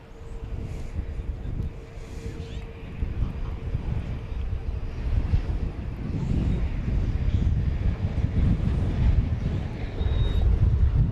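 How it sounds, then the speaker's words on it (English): A six-year-old Airbus A320 airliner at DFW Airport at dusk, its broad low engine roar building steadily and staying loud, with wind rumble across the microphone and faint voices underneath. "This is a 6-year-old Airbus A320."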